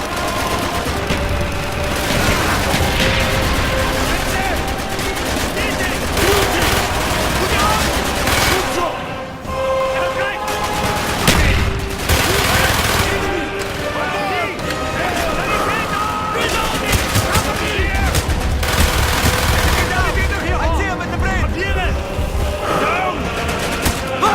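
Call of Duty: Black Ops campaign battle in the Project Nova mission, with loud continuous bursts of automatic gunfire and heavy impacts, shouted voices mixed in throughout.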